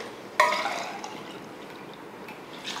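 Water poured into a pressure cooker pot of raw rice, a sudden splash followed by a short run of trickling and gurgling that fades, with faint drips afterward, close and fairly quiet.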